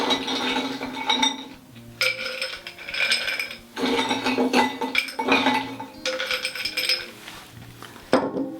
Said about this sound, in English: I like to start with ice first. So I'm gonna load up this glass.